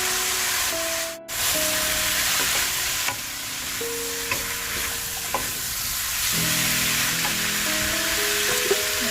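Onion, zucchini and chili peppers sizzle loudly in a hot pan for stir-fried spicy pork with bok choy, a continuous close frying hiss with brief stirring clinks and a quick dip early on.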